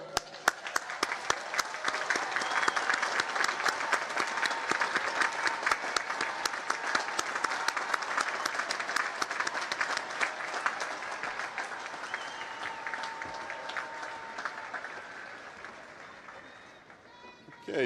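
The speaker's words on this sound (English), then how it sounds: "and give them a round of applause" Sustained applause from a large crowd of naval academy graduates standing to honor their families at a graduation ceremony, steady and dense for most of its length before thinning toward the end.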